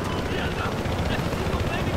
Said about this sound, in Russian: Так, наш вертолет, наш вертолет.